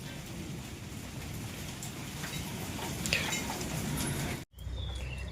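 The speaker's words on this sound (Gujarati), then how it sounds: "એટલો વરસાદ છે." Heavy rain from a storm in Gujarat pours steadily in a dense, even hiss, with the wash of water continuing after a brief cut near the end.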